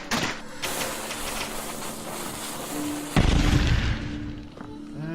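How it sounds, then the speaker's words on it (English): Dynamite blows up in the Eldritch video game: one sudden, loud blast cuts through steady game noise partway in, then its deep rumble slowly fades. "did dynamite explode?"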